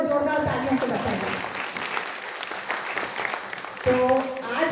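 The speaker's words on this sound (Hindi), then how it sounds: "और जोरदार तालियों से बताइए।" Award-ceremony audience applauding in a hall, a sustained wash of clapping with voices and some music mixed in, swelling again near the end.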